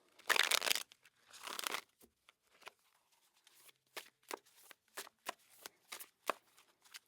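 A deck of tarot cards being shuffled up close: two long riffling bursts followed by a series of short crisp snaps and taps as the cards are handled and squared, with no voice.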